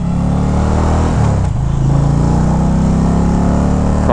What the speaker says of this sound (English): Going into the corner once again, super easy just to lean this bike over.